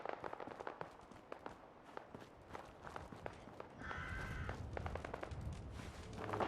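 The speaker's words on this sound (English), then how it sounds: "That's bullets." Fallout 4 gunfire: a run of sharp pops and cracks, faint and somewhat distant, mixed with footsteps and scuffling and growing a little busier toward the end.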